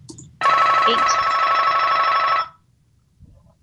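A telephone bell rings loudly and continuously for about two seconds in a room, then cuts off, leaving quiet background.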